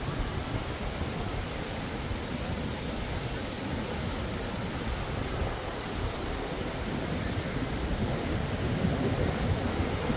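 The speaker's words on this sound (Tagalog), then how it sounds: "Malakas talaga ang alon dito sa kabila ngayon." Strong ocean waves surge and break continuously on a busy Boracay beach, a loud, dense wash of surf that fills the whole stretch without pause.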